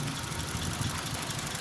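A 2005 Honda City ZX car engine runs at a steady idle close by, an even low rumble with a faint knocking texture and no voices.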